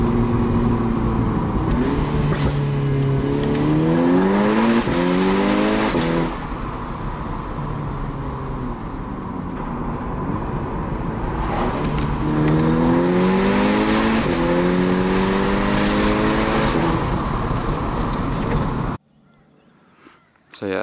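A loud turbo-back exhaust on a Stage 2+ 2010s VW Golf R MK6 revving up through the gears, pitch climbing repeatedly in surges, then dropping off before a sudden cut.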